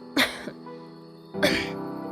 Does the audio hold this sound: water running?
no